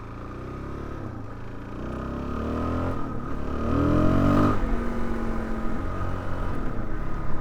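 A Suzuki DR-Z4S motorcycle engine drones steadily while riding, its pitch rising and falling with throttle changes, loud and continuous with wind noise and no talking.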